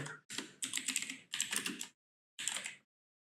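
Code typed on a computer keyboard, quick bursts of close keystrokes in four short runs separated by brief pauses, with no voices.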